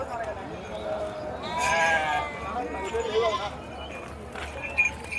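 Sheep, pregnant ewes at Gudur market, bleat in a busy outdoor crowd, with several overlapping animal calls under steady chatter and background voices.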